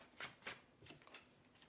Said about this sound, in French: Allez, je mélange les cartes.